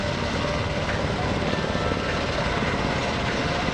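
A UH-60 Blackhawk helicopter at an airshow demonstration fills the air with a loud, continuous rotor and engine roar that stays steady and close throughout.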